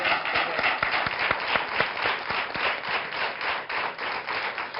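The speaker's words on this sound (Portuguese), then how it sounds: "mandamos daqui uma salva de palmas" A studio audience claps on a television show, a brisk rhythmic burst of many hands with some individual claps standing out, steady and fairly close.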